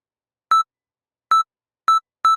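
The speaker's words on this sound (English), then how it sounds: "Then we'll put it in the microwave." Microwave oven keypad beeping while being set to heat oatmeal with water: four short, clear electronic beeps, the first alone, then three closer together, with silence between them.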